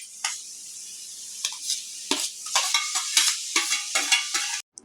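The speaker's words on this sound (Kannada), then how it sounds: "ಇದು ಹಸಿ ವಾಸನೆ ಹೋಗೋವರೆಗೂ ಫ್ರೈ ಆಗ್ತಾ ಇರಲಿ" Green chilli, ginger and garlic paste frying in a pan for a taro root stir-fry, heard as a run of sharp stirring scrapes and short bursts of sizzle, close and fairly loud, ending abruptly.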